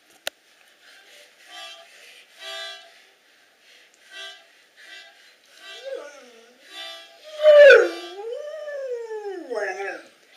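London the dog howls along with music in a home, a series of short rising and falling wails that build into a long loud howl, with people talking softly in between.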